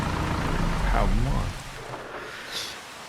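Rain falls steadily in the video game Farming Simulator 25 on a Louisiana farm, a hissing patter under a brief voice, thinning out toward the end.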